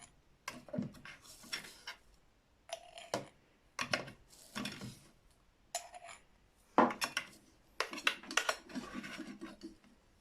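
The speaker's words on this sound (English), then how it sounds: "I'm literally just going to spoon the mint in." Dried mint being spooned into a reused glass herb jar, heard as a run of close, crisp scraping and clinking bursts in uneven clusters with short pauses between them and no talking.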